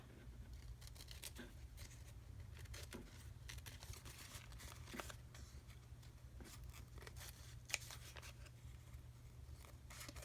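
Scissors snip through a botanical journal page in quick, quiet cuts, a series of faint crisp clicks and paper rustles spread across the stretch, recorded close but soft with no talking.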